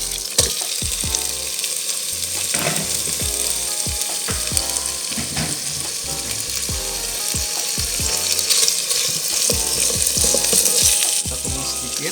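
Chicken sautéing in a yellow spice paste (bumbu kuning) for rempah-style fried chicken gives a loud, steady sizzle, broken by frequent spatula scrapes and clacks against the pan, with no talking.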